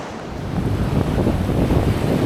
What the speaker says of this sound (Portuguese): começou a bater o vento gelado aqui